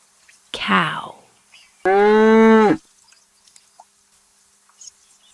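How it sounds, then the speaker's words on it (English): A cow moos twice, close and clear: a first call that falls in pitch, then a louder, steady drawn-out moo, followed by quiet background. "cow."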